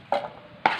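Two separate knife cuts through an onion on a cutting board, short close thuds about half a second apart, alone without talk.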